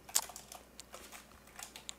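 Rapid keystrokes on a computer keyboard as code is entered, a steady patter of close, fairly quiet clicks with no speech.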